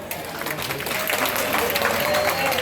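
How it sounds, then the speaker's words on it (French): Audience applause at a gala dinner of the Ivorian diaspora in Paris, a dense continuous wash of clapping from a large crowd throughout, fairly loud and steady. "Applaudissez pour vous."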